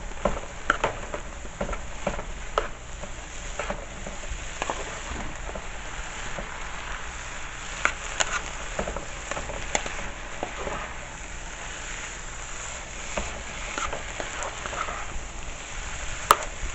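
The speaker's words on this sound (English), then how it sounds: "Gonna mix this up." Food is mixed in a pan with a utensil, faint irregular scraping and tapping over a soft continuous sizzle, without talk.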